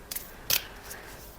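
Tarot cards are shuffled by hand, giving two quick, crisp papery bursts close by, the second louder, with no talk.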